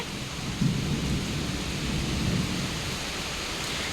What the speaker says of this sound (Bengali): দেখো বৃষ্টি শুরু হয়ে গেছে